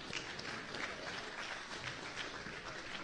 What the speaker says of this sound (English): Give ourselves a round of applause.